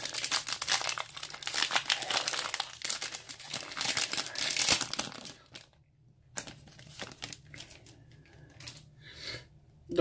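A trading card booster pack wrapper is torn open, giving loud, dense crinkling and tearing of the foil for about five seconds. Sparser, quieter rustles and crackles follow.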